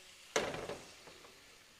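Ginger, garlic and chilies hit hot oil in a pan with one sudden loud sizzle that quickly fades to a softer crackle, with no talking.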